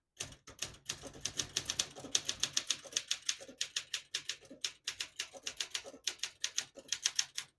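Steady typing on a 1966 Olympia SM8 portable manual typewriter, with crisp mechanical key strikes coming in quick runs and brief pauses, close and fairly quiet, with no voices.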